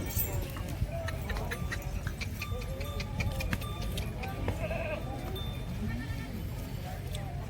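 Goats bleat faintly at a goat farm, with several scattered calls over a low background murmur of people talking nearby.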